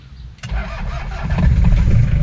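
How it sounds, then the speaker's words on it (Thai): A 1991 Toyota Hiace van's 2L diesel engine cranks briefly, catches, and settles into a loud, rough, steady idle close by. "เดี๋ยวลองสตาร์ทดูติดหรือเปล่า"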